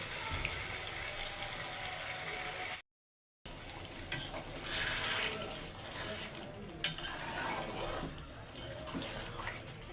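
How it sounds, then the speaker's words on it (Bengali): Whole fish being sautéed and stirred in a pan for a home lunch curry, a continuous sizzle with occasional scraping and clinks, briefly cut to silence partway through. "এইভাবে মাছগুলোরে সুন্দর করে কষিয়ে নেব।"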